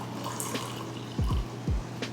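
Brewed Aeropress coffee poured from one carafe into another, heard as a few short, close gurgling splashes of liquid over a quiet background hiss.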